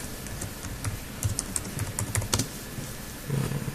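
Typing on a computer keyboard while entering tool settings in CNC plasma cutting software, heard as a steady run of close, light key clicks over a noisy, humming background.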